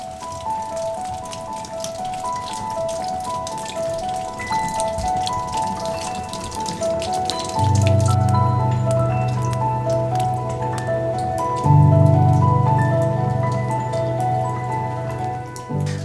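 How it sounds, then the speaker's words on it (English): Rain falls outside a cave on Parys Mountain, an old copper mine landscape in Anglesey, Wales, a steady patter and drip that carries on throughout with a low hum underneath, heard from shelter with no talk. "the good old Welsh weather's just come in and started to rain for a little bit"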